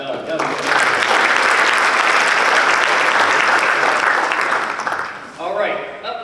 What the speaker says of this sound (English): Let's give another round of applause for Doug